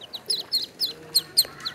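A hen in a rural Shariatpur yard tending wild duckling chicks, giving a run of six or seven short, evenly spaced clucks close by, with faint chick peeps between them.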